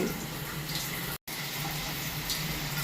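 Steady shower water runs in a continuous broadband hiss, close and even, with a brief dropout midway before the spray resumes unchanged.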